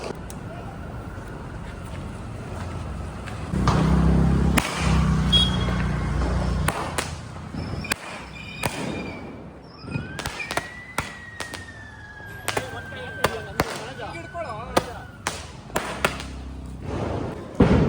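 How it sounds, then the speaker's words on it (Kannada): A large rock-blasting style firecracker is set off for Diwali, giving a heavy booming burst followed by scattered sharp cracks and pops at mid distance, while people talk over the scene. "ಬಂಡೆಕಲ್ಲು ಹೊಡೆಯೋಕೆ ಯೂಸ್ ಮಾಡೋದನ್ನ ನಾವು ದೀಪಾವಳಿಗೆ ಹೊಡಿತಾ ಇದ್ದೀವಿ."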